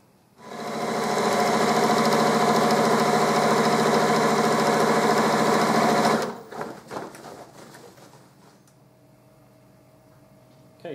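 A sewing machine topstitches close to the edge of a leather-bottomed bag in one long, loud, even run that stops abruptly, followed by a few quiet handling clicks.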